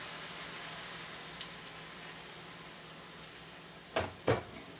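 Onions caramelized dark brown sizzling softly in a pan after apple cider vinegar is added, a faint even hiss ending in two sharp knocks near the close.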